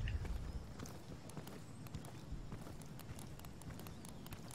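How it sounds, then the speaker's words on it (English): Night vision toggled on and off over and over in the Insurgency video game, rapid small clicks in an irregular galloping rhythm resembling hoofbeats, faint and close. "If you press it a lot, it sounds like a horse."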